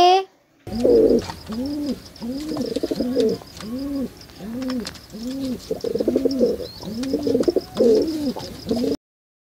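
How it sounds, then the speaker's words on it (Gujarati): A courtyard pigeon coos close by, giving a steady series of soft, rounded rolling calls with faint chirps in the background. "આ છે આપણા આંગણાનું કબૂતર કબૂતર કેવું સરસ મજાનું બોલે"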